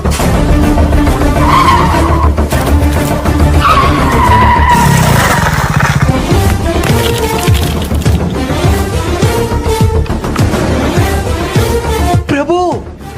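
A motorbike skids after its brakes fail, a loud scraping slide buried in a dense, busy mix of sound, with rising squeal-like sweeps near the end.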